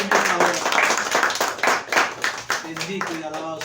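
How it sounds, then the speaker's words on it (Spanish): Church congregation clapping steadily in a rhythmic beat, close and loud, with voices shouting and talking over it throughout. "Démosle un aplauso al Señor en esta hora."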